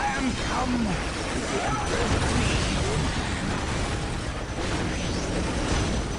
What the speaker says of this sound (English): I use my vehicle ability to kill a turret